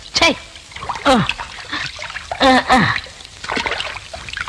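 Water splashes in rhythmic bursts as clothes are washed, with wet slaps and splatters about once a second, close and fairly loud, in a Tamil film scene.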